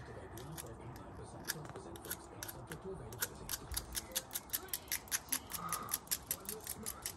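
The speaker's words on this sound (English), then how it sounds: "let's get my pencil sharpened." A carpenter's pencil is sharpened with a blade, a run of quick scraping shaves that quicken into an even rhythmic series of crisp strokes, close and fairly faint.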